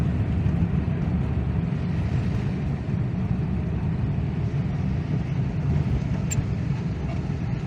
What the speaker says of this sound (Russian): Движение большое.